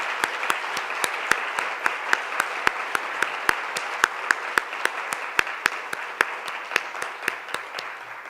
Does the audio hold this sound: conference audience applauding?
yes